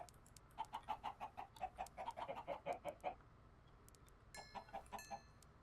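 Chickens in a farming video game cluck in a fast run of close, repeated clucks, then go quiet briefly before a few more clucks and a short squawk.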